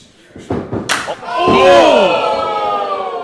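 A wrestler hits a backpack stunner in the ring during a New Frontier Grand Championship title match, a sharp slam and impact thuds followed by a loud, sustained crowd roar, with a commentator talking over it.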